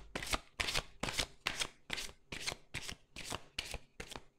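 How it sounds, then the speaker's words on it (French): Angel love oracle cards shuffled by hand, a steady run of about ten crisp riffling bursts, close and fairly quiet, with no voices. "on va maintenant tirer trois cartes des anges de l'amour pour conclure"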